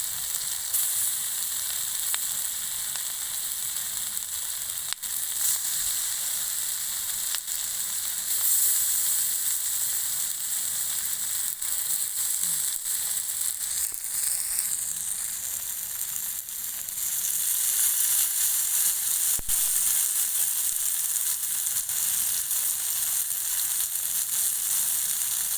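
River catfish frying in ghee, a steady bright sizzle that holds at an even level for a long stretch, with brief faint clicks and no talking.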